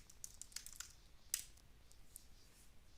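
Faint, close clicks of a computer keyboard as a web address is typed, a quick scatter of light keystrokes with one sharper tap, quiet and with no voices.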